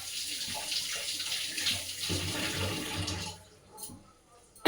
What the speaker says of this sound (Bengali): এটাকে এবার ভালো করে ধুয়ে নেব।